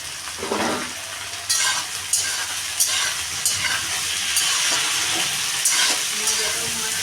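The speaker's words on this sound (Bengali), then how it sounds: "পনিরটাও এবার আমি দিয়ে দেবো, একসঙ্গে ভেজে নেব।" Paneer frying in a kadai with capsicum, peas, carrot and beans, a loud continuous close sizzle broken by repeated stirring scrapes and clatters.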